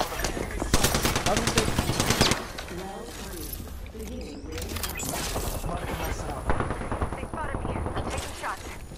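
Rapid bursts of video game machine-gun fire crackle in dense, loud volleys, easing briefly before more shooting, with several players talking over the action.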